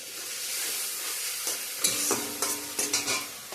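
Curry being sautéed and stirred in a frying pan for a vegetarian dish, a steady close sizzle with scraping spatula strokes growing more frequent toward the end.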